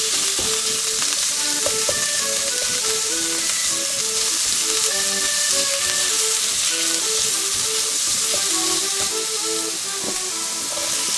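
Minced meat sizzles and fries steadily in a pan for curry, with root vegetables already softened, a dense continuous crackle with occasional stirring scrapes and clinks, close and fairly loud.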